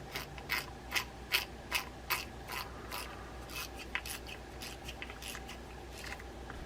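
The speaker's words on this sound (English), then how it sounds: "Boy, that turns a lot more free and easy than it did for sure, right?" A serviced Shakespeare Ugly Big Water 70 spinning reel being cranked, giving a close, dry ratcheting whir in repeated bursts as the handle turns, some strokes stronger than others, with no voices.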